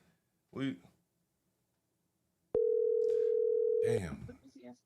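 A telephone dial tone sounds after a dropped call, a steady flat hum lasting about a second and a half, with brief speech before it and talking starting over its end.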